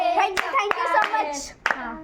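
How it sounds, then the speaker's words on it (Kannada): Several people clap for the winner of a fun-day game, a short burst of irregular claps mixed with overlapping excited voices, including a child's. "ಸಾವಿರ ಸಾವಿರ ಚಪ್ಪಾಳೆ ಚಪ್ಪಾಳೆ"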